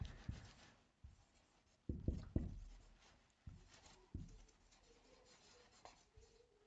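Chalk or marker writing sentences on a board, with intermittent taps and scratchy strokes in short bursts, fairly faint and close, with no talking.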